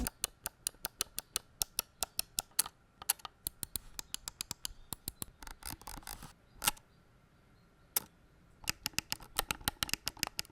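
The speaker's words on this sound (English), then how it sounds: "The primary buttons are very large and very clicky, and they can be easily clicked from any point." Razer Basilisk V3 mouse with second-generation optical switches, its large primary buttons clicked repeatedly in quick, uneven bursts of sharp, close clicks with short pauses, alone with no talking.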